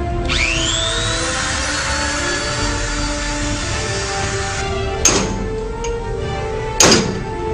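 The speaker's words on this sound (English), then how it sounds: "Now I'm going to score the tooth with a Dremel tool." A Dremel rotary tool scores a tooth to collect powder for a DNA sample. Its high, steady whine spins up and runs for about four and a half seconds, then cuts off, followed by two sharp clicks.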